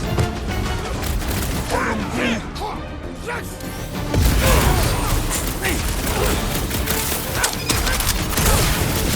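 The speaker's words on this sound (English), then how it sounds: "I'll lay down some cover fire to get you across!" Cover gunfire in Marvel's Guardians of the Galaxy rattles off in dense, loud bursts mixed with crashes and impacts during rooftop combat, while voices speak over the chaotic battle.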